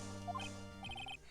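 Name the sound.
parrot witness squawking, Phoenix Wright Ace Attorney video game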